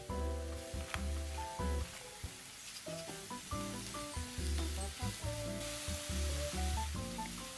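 Cabbage with softened green onion stir-fries over high heat, a bright, continuous sizzle running beneath prominent background music.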